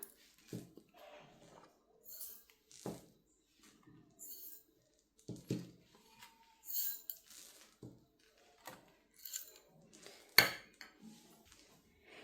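Ingredients clink and rattle in a bowl as they are put in and washed, with scattered light metallic taps, scrapes and small knocks at an irregular pace, close but fairly quiet, without speech.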